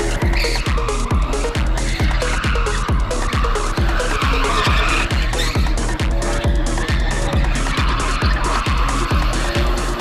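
A car drifting in a Rio Mall parking lot, tires squealing continuously over a loud, rhythmically pulsing engine that stays close and steady throughout.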